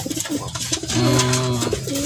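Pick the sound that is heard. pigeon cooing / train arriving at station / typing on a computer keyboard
pigeon cooing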